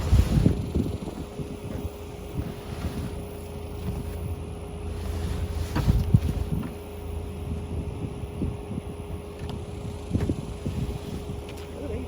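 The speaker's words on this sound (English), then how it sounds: "It has a Honda engine." A post driver's small Honda engine runs steadily with a low rumbling drone and wind buffeting the microphone, with occasional louder bursts and no talking.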